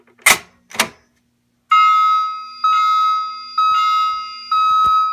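Two sharp clicks as a fire alarm pull station is pulled, then a loud electronic alarm sounds in four repeated long tones with brief gaps between them.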